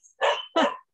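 Two sharp, loud dog barks sound close by in quick succession, with a faint yip before them.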